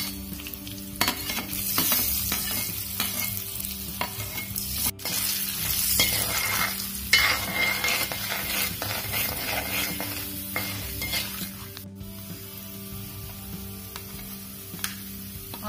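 Chana dal and urad dal fry in hot oil in a pan with a steady, close sizzle, broken by repeated scraping and stirring strokes and a few sharp clicks of the spoon against the pan.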